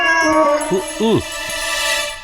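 A cat in a Tamil television comedy episode gives several close, clear meows in quick succession, with a steady tone running in the background.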